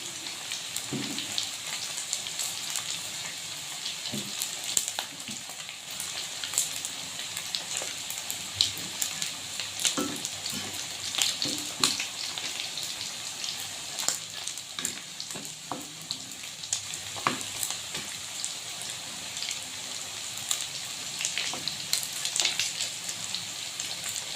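Pork frying in a pan of hot oil gives a steady, close crackling sizzle with scattered sharper pops throughout, heard alone with no talk.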